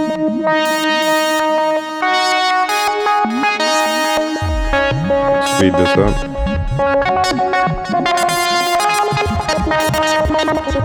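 A Syntrx II synthesizer patch with noise feeding a sample-and-hold that randomly steps the filter produces bright, buzzy tones jumping between pitches in irregular bursts, briefly joined by a short spoken comment.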